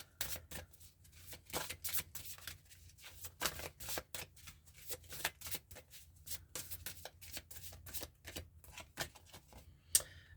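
A deck of oracle goddess cards is shuffled by hand, giving quick, soft, papery flicks and riffles in rapid irregular bursts, close and fairly quiet, with no talking.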